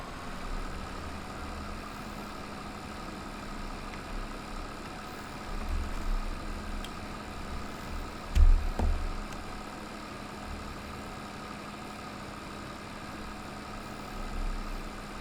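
A tractor engine idles in a hay-making roleplay set on a 1971 farm, a low, steady mechanical hum with a few louder revving bumps and knocks midway, no voices heard.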